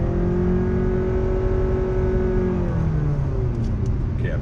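A Honda Clarity plug-in hybrid accelerating from a standstill in sport mode, heard from inside the cabin as a steady, loud engine drone with a whining tone that shifts pitch partway through.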